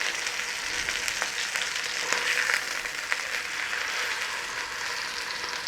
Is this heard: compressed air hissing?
no